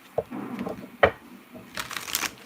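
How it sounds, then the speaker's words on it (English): Oracle cards shuffled by hand, soft quick riffling and tapping bursts with a couple of sharper clicks, close and quiet, no talking. "Let me go ahead and shuffle it really well."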